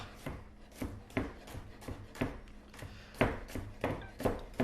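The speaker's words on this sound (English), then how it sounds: "So I just take these and I'll do a rough chop." A knife rough-chops garlic on a cutting board for kimchi, about a dozen crisp, evenly spaced chops close up with faint rubbing between them, no voices.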